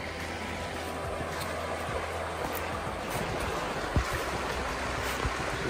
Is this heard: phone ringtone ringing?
no